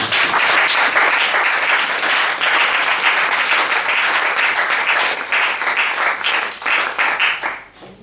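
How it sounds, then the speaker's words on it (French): A church congregation bursts into sustained applause after a sermon on marriage, dense and loud clapping that holds steady and then fades away at the end. "Est-ce qu'on peut acclamer pour sa parole?"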